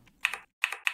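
Simulated mechanical keyboard keystrokes from the Mechvibes app sound on a computer: three crisp, clicky presses in quick succession, close and isolated.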